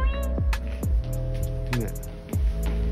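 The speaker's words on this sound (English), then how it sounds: "Meowing." A cat meows several times in short, separate cries, fairly close, over a steady electrical hum.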